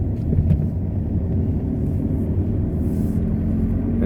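A car drives on roads around Lakenheath in the UK on a Saturday afternoon, with a steady low engine and road rumble continuing throughout, close and moderately loud, with no voices.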